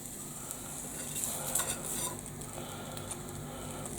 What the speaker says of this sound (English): Give the pan a quickly scrape to get all the gunk off the bacon out.